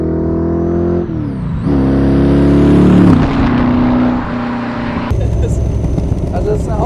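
A 1964 AC Cobra 427 SC MK III with a 7-litre V8 roars loudly up close, climbing through several sharp revs and gear changes with a harsh, raw exhaust note.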